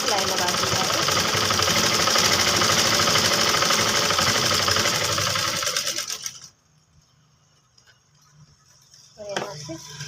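Sewing machine running steadily while stitching a ladies' coat collar on a kurti, loud and continuous for about six seconds, then stopping into near silence with a short burst of handling noise near the end.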